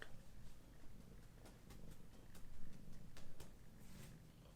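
A cat purrs loudly and close by, a steady low rumble with faint clicks and rustles over it.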